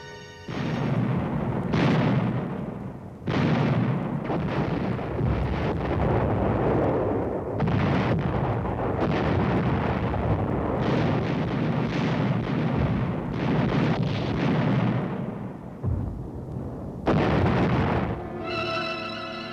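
Artillery shelling of Quemoy and Matsu islands comes as repeated heavy booming blasts with rumbling roar between them, loud and continuous on an old archival film track.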